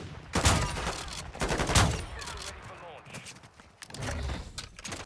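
Rapid bursts of Bryson 800 gunfire in Modern Warfare 2, several quick strings of loud shots with short pauses between them, layered over game ambience.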